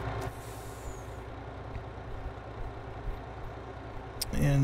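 A truck in Farming Simulator 22 idles with a low rumbling engine, then near the end releases a sharp air-brake hiss over a louder engine surge.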